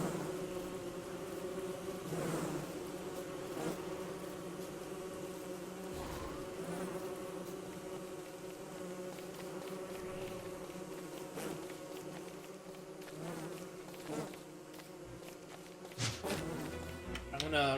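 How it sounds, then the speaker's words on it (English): Bees in the survival video game Don't Starve give a steady droning buzz throughout, with someone talking over it and occasional sharper in-game effect sounds. "Oh, the bees didn't aggro."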